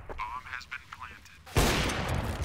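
Gunfire in a competitive shooter video game bursts in loud and sustained after an excited commentator's voice, dense and rattling to the end.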